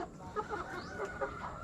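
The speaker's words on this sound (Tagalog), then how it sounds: "Mga upgraded na manok po yan." Upgraded free-range chickens cluck softly and repeatedly on a farm, short bursts of clucks in an uneven rhythm at a moderate distance, fairly quiet against a faint background hum.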